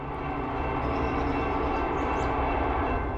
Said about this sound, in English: We got an eastbound. The first train in almost 2 hours.